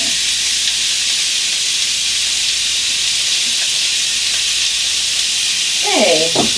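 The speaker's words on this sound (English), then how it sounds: "So this should give a nice little sizzle" Loud, steady sizzling from stuffed burgers in a hot pan, a constant bright hiss that carries throughout, with a faint voice near the end.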